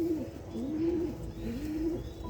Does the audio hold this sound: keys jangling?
no